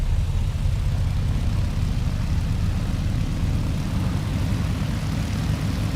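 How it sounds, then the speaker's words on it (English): Twin propeller engines of a BN-2 Islander run in Microsoft Flight Simulator, a steady, loud low drone with an even hum that holds unchanged throughout, with no talking. "we got both of the engines running now."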